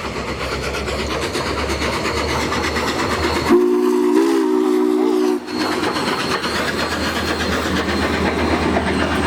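Union Pacific 844 steam locomotive rolling past in Omaha, loud continuous rumble and clatter of the train with a sustained whistle blast of about two seconds in the middle, close and dominant.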